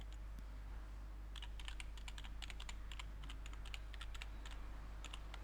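A Google search being typed on a computer keyboard, bursts of quick, light key clicks that come in uneven runs over a low steady hum, close but quiet, with no talk.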